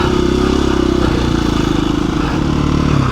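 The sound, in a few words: KTM 350 EXC-f dual sport motorcycle riding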